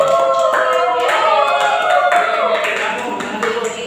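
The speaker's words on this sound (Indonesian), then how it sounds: "tepuk tangan dulu untuk kelompok Icikiwil" Classroom of students clapping for a student group after a presentation, a brief burst of hands under a loud teacher's voice and other chatter that dominate throughout.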